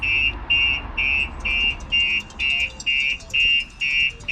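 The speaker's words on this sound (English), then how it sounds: "what's going to happen is the alarm's going to go off" A StarLine S96 alarm on a 2010 Honda Accord sounds off in a steady series of about nine loud, even electronic beeps, each roughly a third of a second long with short gaps between them, and no one speaks.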